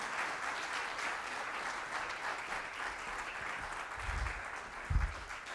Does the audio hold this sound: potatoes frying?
no